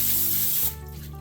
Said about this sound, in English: I'm going to spray the liner with some nonstick spray.